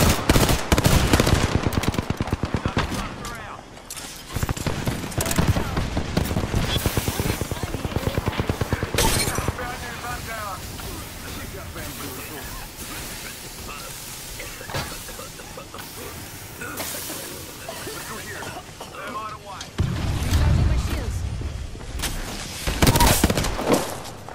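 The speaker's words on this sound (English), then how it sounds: "They're shooting at me." Heavy automatic gunfire from enemy squads in a shooter video game, loud sustained bursts and rattling volleys that keep rolling across the whole stretch, with a player talking over the shooting.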